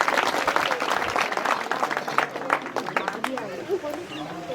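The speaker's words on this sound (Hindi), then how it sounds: "कृपया ताली बजा दीजिएगा।" An audience in Lamba village applauds to welcome Erik Solheim, executive director of UNEP, with dense, steady clapping from many hands that continues throughout and thins slightly toward the end, mixed with crowd chatter.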